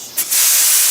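An air-powered sprayer blasts heated used motor oil as a truck undercoat, a loud, steady hiss of spray that starts after a brief sputter and holds close and constant to the end.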